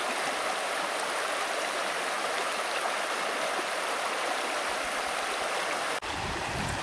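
A cold, shallow river rushes steadily through a gorge nearby, a constant broadband flowing hiss with no other sounds.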